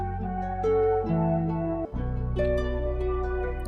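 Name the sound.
guitar melody pitched down by 3 with a sound shifter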